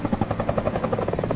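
A helicopter's rotor chop pulses steadily at mid distance, sounding as if it plays back from a clip.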